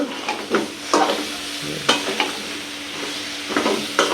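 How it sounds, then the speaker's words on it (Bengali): Sweet pumpkin and prawns stir-fried in hot oil: a constant close sizzle broken by repeated scraping, clattering strokes of a spatula in the pan, with no talk. "এটা ভালো করে কষাইয়া তারপরে জল দিব"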